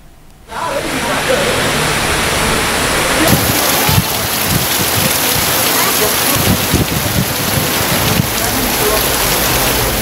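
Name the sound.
heavy rain with hail and wind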